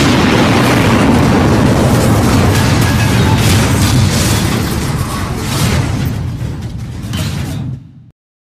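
Loud sustained explosion sound effect, a dense rumbling blast with crackling debris that rolls on for about eight seconds before cutting off abruptly.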